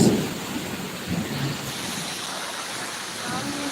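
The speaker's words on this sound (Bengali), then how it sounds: "এই দেখো প্রচণ্ড মেঘ ডাকছে" Thunder rolls during a heavy monsoon rainstorm, a brief low rumble at the start, then a steady broadband hiss of rain that carries on throughout, with a faint murmur of voices in the background.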